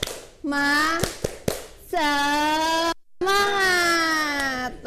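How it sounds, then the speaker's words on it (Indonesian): A classroom of students performs a rhythmic spirit clap, with a few sharp hand claps between loud, drawn-out chanted voices, all close and clear. "Coba Ibu tes dengan tepuk semangat"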